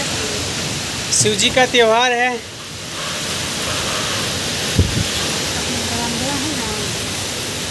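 Steady hiss of rain pouring outside during a storm fills the background, while a person speaks briefly near the start.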